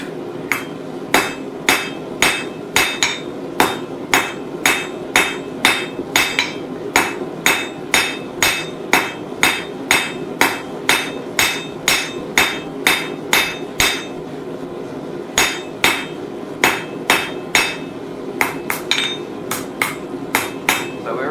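Blacksmith hammering a hot metal arrowhead pendant on an anvil: a long run of sharp, ringing strikes at a steady rhythm, loud and close, with a short pause midway.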